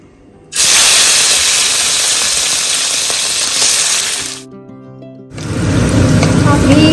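Prawns hit hot oil seasoned with whole garam masala, peppercorns and garlic, setting off a loud, steady hiss and sizzle that dips briefly near the end before flaring up again.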